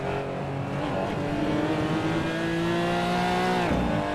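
Porsche GT4 Clubsport race car in a racing game, its engine droning loud and steady at high revs with a sharp downshift near the end.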